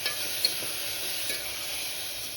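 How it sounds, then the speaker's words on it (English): Beef and onions fry in a pan on a high flame for a Goan red beef curry, giving a steady bright sizzle with a couple of faint scraping stirs, close and continuous without speech. "I'm going to add the beef and I'm going to let it cook on a high flame"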